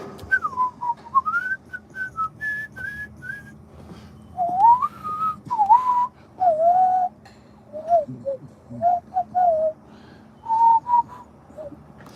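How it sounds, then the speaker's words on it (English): A sequence of clear, melodic two-finger whistled notes that slide up and down in pitch, broken into short phrases with brief pauses between them. "I put 2 fingers in my mouth while whistling"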